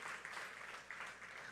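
A church congregation claps for the Lord during a sermon, a steady, faint patter of many hands heard from a distance with no voices over it.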